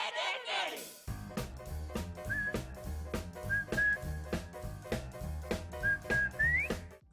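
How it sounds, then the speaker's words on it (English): A whistled melody from the Ed, Edd n Eddy cartoon theme song rises and bends in short phrases over bouncy, full band music. Several whistled notes recur across the piece, loud and upfront with the music. "when you hear that music followed along with that specific whistle, you know what cartoon it is"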